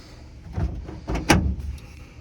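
Door hardware on a 1970 Plymouth Cuda with a Gen 3 Hemi being worked as the stuck door resists opening: a few muffled thuds and clunks, the sharpest knock about two-thirds through, close and moderately loud with no talk.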